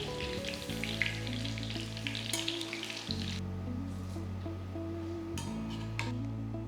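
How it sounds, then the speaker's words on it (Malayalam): Chicken pieces fry in hot oil for a Payyoli-style chicken fry, giving a loud, continuous sizzle with a low steady hum beneath. Occasional clinks of utensils against the pan cut through the frying. "നിറം ആദ്യം മാറാതെ തന്നെ ഫ്രൈ ചെയ്തെടുക്കുക."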